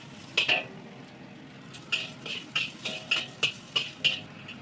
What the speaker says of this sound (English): And we're going to fry our chili.